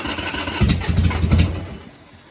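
A 2004 Harley-Davidson Sportster engine cranking without choke, a low rough rumbling churn that rises and falls over a couple of seconds, close and steady before tapering off, no voices.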